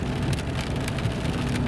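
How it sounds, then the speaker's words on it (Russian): Steady rain falls outdoors as a dense, even hiss with soft scattered drop impacts, continuous and fairly loud with no voices. "Дожди зарядили на всю неделю, может и на месяц."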